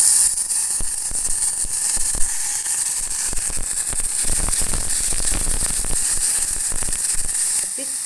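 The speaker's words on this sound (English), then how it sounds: "So the oil has become hot. We call them beef strip fry up because they're in. So now your strips get in there." Steady, loud sizzle of beef strips frying in hot oil, a constant hiss with scattered pops and crackles throughout, no talking.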